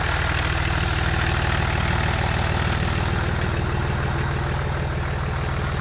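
A vehicle engine idles steadily and loudly, close up, with an even low throbbing rhythm and a slight knock, running alone for several seconds with no talking.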